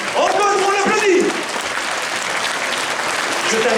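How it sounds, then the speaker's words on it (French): Audience at a Swiss manga convention applauds a cosplay jury member, loud dense clapping throughout with a voice speaking briefly over it near the start. "Donc, encore une fois, on l'applaudit."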